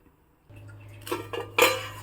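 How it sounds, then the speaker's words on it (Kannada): A metal lid is lifted off a cooking pot of drumstick sambar-style esaru, giving a few close metallic clanks and scrapes over a low kitchen hum, with no talking. "ಇವಾಗ ನೋಡಿ ಮುಚ್ಚಿರೋದನ್ನು ತೆಗೆದಿದ್ದೀನಿ"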